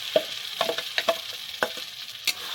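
Chira batter is stirred in a pan of hot ghee, a soft sizzle running throughout with several sharp scraping and clicking stirs at irregular intervals, close by and with no talking.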